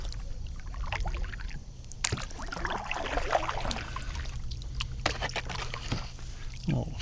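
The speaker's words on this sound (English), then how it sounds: "We're gonna paddle up ahead here" Kayak paddle strokes on the Emory River in Tennessee, soft splashes and water trickling near the boat, with a quiet outdoor background.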